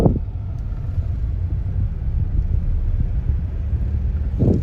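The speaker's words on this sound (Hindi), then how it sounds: "ट्रैक्टर" Low rumbling engine of a passing tractor on a hot roadside, a steady loud drone with wind buffeting the microphone, swelling at the start and end.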